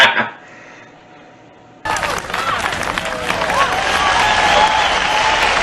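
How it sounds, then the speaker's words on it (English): After a brief quiet stretch, a burst of crowd applause with cheering and babble of voices kicks in abruptly and builds, staying loud to the end, as a laugh track for a comedy show. "The applause and laugh track."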